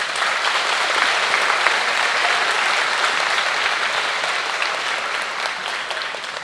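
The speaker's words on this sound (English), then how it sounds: "So let's give these fine folks a round of applause" Steady, dense applause from a school audience at a senior honors night, sustained clapping filling the room evenly throughout without a break.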